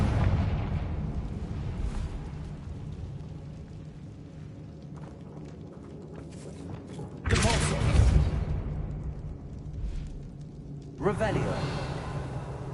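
Confringo fire spells go off in Hogwarts Legacy. Rumbling game ambience builds to two loud, sharp bursts, each with a booming rolling tail, several seconds apart.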